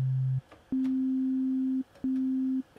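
A pure synthesizer sine wave oscillator tone, steady and smooth, sounding in three separate sustained notes with short gaps between them, alone and clear.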